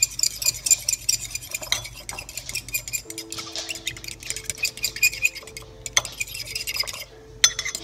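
A fork whisks eggs in a bowl for omelets, giving quick, close clinking and tapping strokes in an uneven rhythm, with a faint steady hum joining midway.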